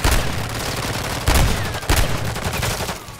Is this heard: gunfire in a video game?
yes